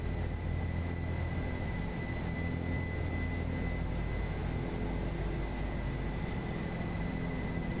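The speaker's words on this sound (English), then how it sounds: "Okay, we got an enemy jet here" Steady, loud jet engine roar of an enemy jet aircraft in the video game Future Warfare, a continuous drone that holds constant throughout with no talking.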